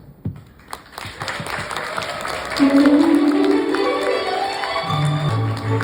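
Wedding guests applaud in a hall as both mothers make their entrance, steady clapping filling the room under music, with a few sharp claps at the start.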